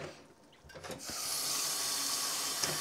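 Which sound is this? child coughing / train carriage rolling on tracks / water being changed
water being changed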